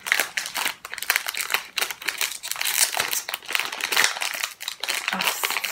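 A plastic wrapper on a Japanese DIY apple-flavored chewing candy kit crinkles loudly and continuously, close up, as it is handled and pulled open.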